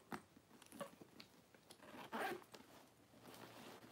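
The zipper on the back of a leather purse with tassel pulls is drawn open or shut, giving a short raspy zip amid soft handling rustles, close and fairly quiet with no talking.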